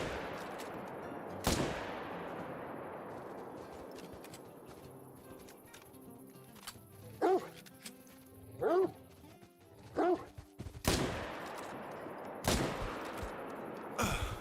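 Gunshots fired at a buffalo in a hunting video game ring out as a few loud, sharp bangs spread across the clip, with a dog barking and yipping in between and a steady low game ambience underneath.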